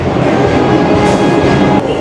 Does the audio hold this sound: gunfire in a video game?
no